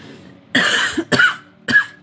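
Three sharp coughs in quick succession, close and fairly loud, with short pauses between them and no talking.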